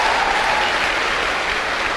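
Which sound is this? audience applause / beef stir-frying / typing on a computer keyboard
audience applause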